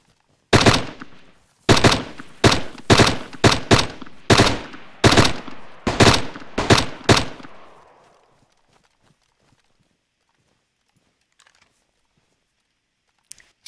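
Gunfire in the survival game DayZ: a fast series of about ten loud, sharp shots in irregular bursts over the first seven seconds, then fading into near silence with a few faint distant clicks.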